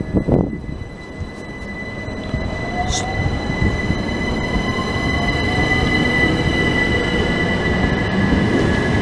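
A Southeastern Class 375 electric train pulls out of Ashford International station, a steady low rolling rumble building as it moves off, with faint wheel squeal and high electrical whine, heard from the platform.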